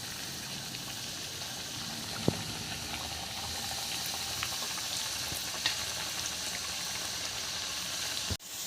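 Coconut milk poori frying in hot oil, a continuous dense bubbling sizzle heard close and steady throughout, with a brief clatter at the very end.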